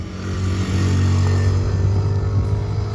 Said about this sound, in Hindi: बहुत ही अच्छे से साउंड हो रहा है for a single cylinder motorcycle